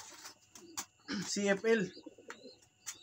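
Fancy pigeons cooing close by in an early-morning loft, a couple of soft throaty coos rising in the middle amid scattered chirps, with someone talking intermittently.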